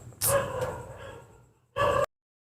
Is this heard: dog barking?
yes